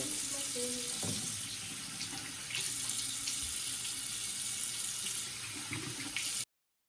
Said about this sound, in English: So I'm just gonna rinse my face.